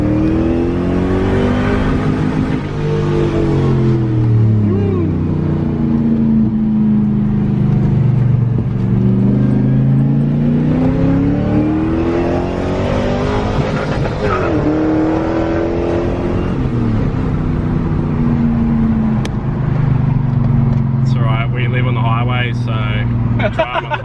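A Nissan R33 Skyline cruising on the road, its engine droning and rising and falling with shifts in speed, heard from inside the car with someone talking over it.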